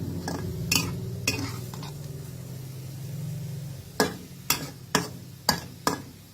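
Pork and egg stir-fried in a pan, with a soft sizzle under scraping at first, then five sharp spatula or utensil clacks against the pan in quick succession near the end.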